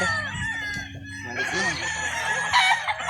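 A rooster crows loudly and repeatedly, its long strained calls layered with clucking hens in a busy poultry yard.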